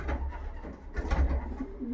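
Soft, low pigeon cooing close by in a loft, continuous and murmuring, with muffled shuffling around it.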